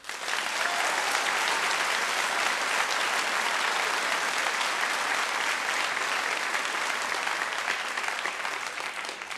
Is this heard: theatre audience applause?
yes